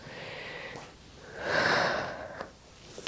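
Heavy exhaled breaths during a hip and core Pilates exercise: a soft breath, then a louder, drawn-out, airy exhale swelling in the middle, fading to quieter breathing, close by with no talk.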